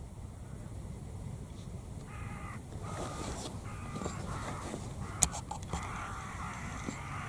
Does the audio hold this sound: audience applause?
no